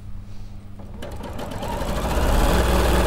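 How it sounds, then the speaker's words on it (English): A sewing machine stitches triangles onto quilt rows, starting after a second of quiet and building into a steady, fast mechanical whirr with rhythmic needle clatter, close and fairly loud. "So I'm just sewing the second triangles on now."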